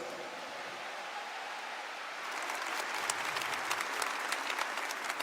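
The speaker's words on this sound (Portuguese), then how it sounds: "Pode aplaudir quem está recebendo isso aí." A congregation at a Catholic camp gathering breaks into applause, a steady wash of many hands that swells noticeably louder partway through and continues dense and close to the end.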